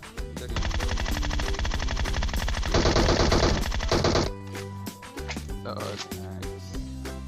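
Long sustained burst of rapid automatic machine-gun fire in PUBG Mobile, dense and loud for about four seconds before cutting off, followed by quieter game sounds.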